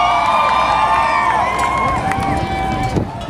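A festival audience at a Luis Palau event cheers with scattered whoops and whistles that rise and fall over a murmuring, echoing crowd.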